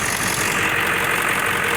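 A Ford 7.3-liter diesel truck engine idles up close, a dense continuous clattering drone with no break or change in level across the moment.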